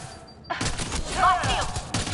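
A short burst of video game gunfire erupts after a brief quiet moment, with sharp rattling shots and a crash-like impact crowding the mix for under two seconds.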